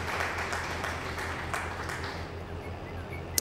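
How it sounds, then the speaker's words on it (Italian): Brief applause during an Italian livestream, a soft, steady patter of clapping mixed with background hum and faint voices. "Un applauso al nostro I Piani"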